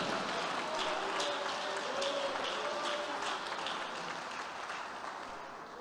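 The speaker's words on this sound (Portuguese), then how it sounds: "Quem recebe, aplauda o Senhor Jesus" A church congregation applauds the Lord during a sermon, a steady wash of many hands clapping at moderate distance that fades slightly toward the end, with a faint voice underneath.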